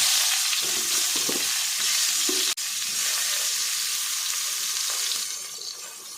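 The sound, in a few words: eggplant pieces frying in oil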